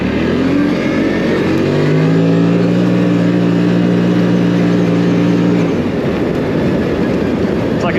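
A CFMOTO Cforce 800 Touring ATV engine revs up with a turbo-like spooling whine, a steady loud drone whose pitch holds and then drops away after about six seconds, up close outdoors.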